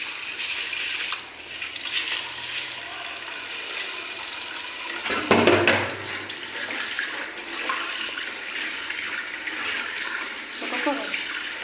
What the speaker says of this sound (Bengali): আগে আমি চালটা ধুয়ে দিই